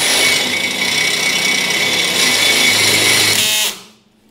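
A cordless drill fitted with a butter bit grinds steadily through a hole on a T-bucket roadster build, a loud continuous whine with a weakening battery before it winds down and stops.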